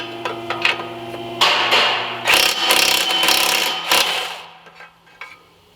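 A ratchet with a swivel socket clicks in short bursts on a 15 mm exhaust bolt during a Y flex pipe replacement on a 2007-2016 GMC Acadia, close metallic ratcheting alternating with clanks and pauses.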